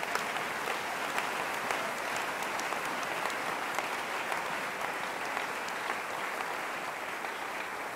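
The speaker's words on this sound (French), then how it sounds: "Nous acclamons pour la gloire de notre Dieu." Church congregation applauding during a Christmas service, a sustained, even wash of many hands clapping at close range without pause.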